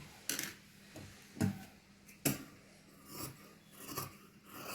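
Scissors snip through blouse fabric in several separate crisp cuts, spaced irregularly, close and moderately loud against quiet handling of cloth.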